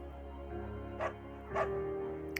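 A beagle in the video game Firewatch gives two short barks about half a second apart, close and fairly quiet, over a low steady hum.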